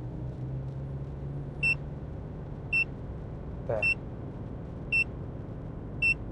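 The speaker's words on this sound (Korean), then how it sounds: "아침에 그 알람 소리, 옛날 알람 소리 나는 것처럼" Five short, bright electronic beeps from an aftermarket car HUD's overspeed warning sound at even intervals over a low, steady engine hum, with a brief murmured word in between.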